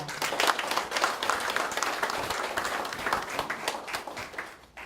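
Welcoming applause from the audience at a Daejeon anti-corruption federation inauguration, continuous moderate clapping from many hands, close and even, tapering slightly at the end.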